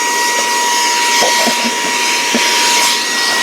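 A Saker 3-in-1 handheld vacuum cleaner runs with a steady, close, airy whine and hiss, constant throughout with only slight wavering and no talk.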